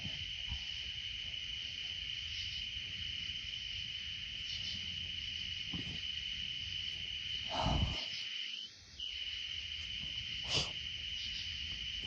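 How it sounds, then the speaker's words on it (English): Steady, high-pitched chirping of crickets fills a quiet outdoor setting, with a few soft rustles and a brief low thump partway through. "all that can be heard are the chirping of crickets"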